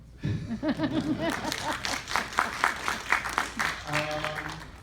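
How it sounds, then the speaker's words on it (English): An audience claps and cheers in a burst of applause, with a voice speaking over the start and background tones near the end. "You can applaud."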